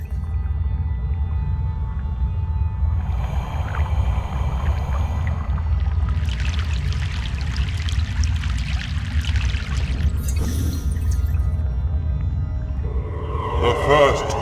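A boat crosses a river in the video game Broken Sword 3, with a low rumbling hum throughout and bursts of splashing, rushing water midway and again at the end.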